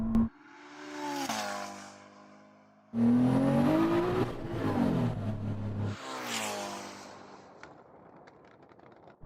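A high-performance SUV engine revs hard through several rising bursts of acceleration at speed during a race, loud and near, with short gaps between gear changes and a fading tail.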